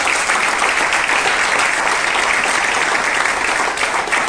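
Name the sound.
church congregation applause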